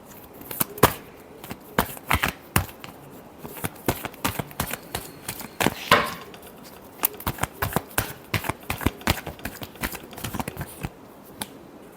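Close-up hand shuffling of tarot cards gives a long run of sharp, snappy card clicks and riffles, steady but uneven in rhythm, with no one talking over it.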